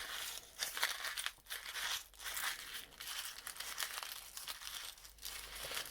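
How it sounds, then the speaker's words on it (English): Paper is crumpled by hand for a junk journal project, a close, continuous crinkling and scrunching with brief tearing-like crackles, quiet and without speech. "Crumple it again."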